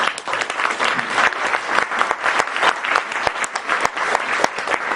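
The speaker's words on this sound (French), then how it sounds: "merci à Hélène je pense qu'on peut l'applaudir aujourd'hui" An audience at a seminar applauding steadily, a dense patter of clapping hands that holds throughout at a lively level.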